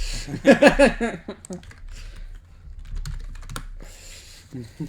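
Keys clack on a computer keyboard in brief, irregular bursts, close and clear. A voice talks at the same time during part of the clip.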